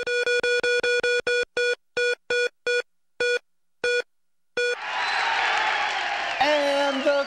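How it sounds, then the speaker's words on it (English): On a game show, a prize wheel's rapid tonal ticks slow to a stop, then a studio crowd erupts in loud, sustained cheering and applause that carries to the end. "And the crowd goes wild."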